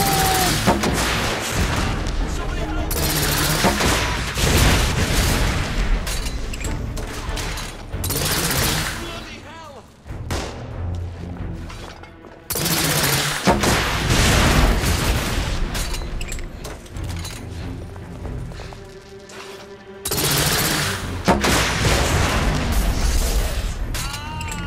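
Gunfire in the PS4 shooter The Order: 1886, dense bursts of shots and booming blasts in loud sustained volleys, separated by brief lulls, with voices shouting over the battle.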